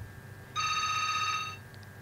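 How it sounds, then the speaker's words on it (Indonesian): A telephone rings once during a radio call-in show, a single clear electronic trill lasting about a second, fairly faint against a low background hum. "Ini sudah ada yang telepon nih, Bib."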